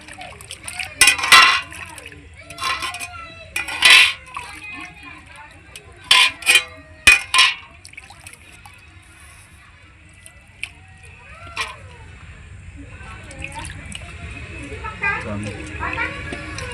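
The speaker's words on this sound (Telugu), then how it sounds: "ఇప్పుడు ఈ చేపల్ని 2 సార్లు వాటర్లో కడుక్కోవాలి." Bursts of water splashing and sloshing come in irregular clusters as fish are rinsed by hand in a basin of water, with voices heard faintly.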